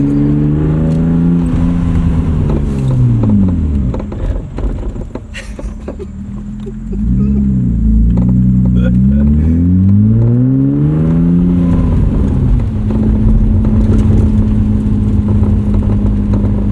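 1995 BMW E36 325i with a 5-speed manual, engine revving up and down through blips and gear changes, close and loud, with repeated rising and falling pitch sweeps and a steady cruising drone toward the end.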